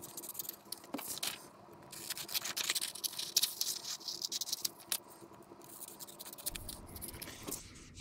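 Scissors snipping through regular printer stock paper, cutting out printed miniature blankets for a scale model; close, dry scraping and snipping strokes repeat irregularly over a quiet background.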